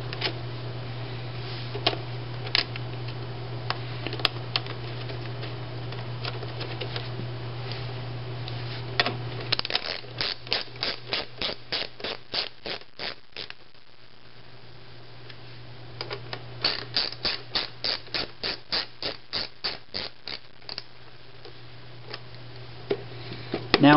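Screws are driven into a metal mounting plate on the back of a projector, two long runs of rapid, even ratcheting clicks against a steady low electrical hum.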